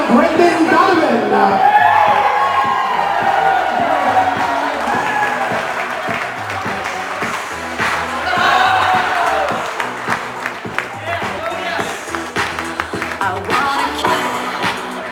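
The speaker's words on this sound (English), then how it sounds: "A big round of applause for our bridesmaid, Jamie Cameron, escorted by groomsman Brenda" Wedding reception crowd applauding and cheering as the bridal party is introduced, a sustained loud wash of clapping with whoops over amplified music, continuous throughout.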